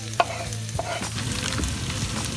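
Ginger, garlic and hot chili dropped into a pan for Indian-style chicken, a loud sizzle close up, starting with a couple of clunks and stirring scrapes over steady frying crackle.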